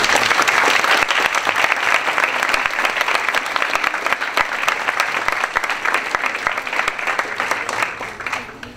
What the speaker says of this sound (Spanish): pido un fuerte aplauso de ellos